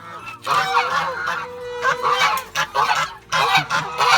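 Several geese in a farm pen honk loudly and repeatedly close by, their harsh calls overlapping in bursts with short pauses between.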